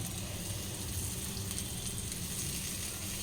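Slices of elephant foot yam (suran) fry in a pan with a faint, steady sizzle and crackle that stays even and quiet throughout, with no voices.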